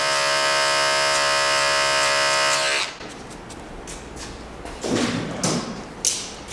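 Electric hair clippers buzz loudly and steadily while cutting a bald guideline for a bald taper fade, then cut out, leaving soft tapping and handling thuds.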